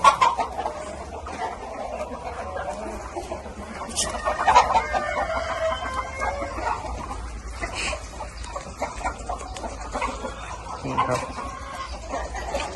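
Chickens cluck steadily in a coop during a feather-molting period, with scattered louder calls and a brief crow-like cry, while someone talks over them throughout.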